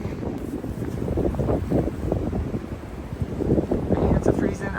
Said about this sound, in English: it is windy, windy,